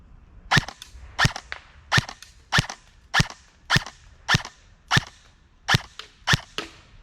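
Arcturus NY-03 M4 airsoft gun fired outdoors: about ten sharp, evenly spaced single shots, each a crisp snap with a short tail, loud and close, with no talking.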